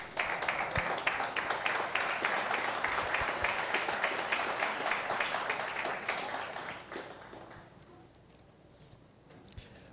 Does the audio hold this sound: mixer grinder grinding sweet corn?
no